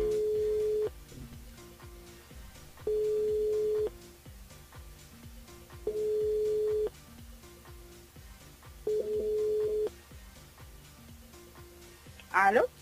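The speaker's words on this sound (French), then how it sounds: "On appelle Manuela du côté de Saint-Paul, c'est parti." During a radio call-in show on Kayanm FM, a telephone line rings in the studio, a steady tone in repeated one-second bursts about every three seconds over background music, ending in a short sharp blip.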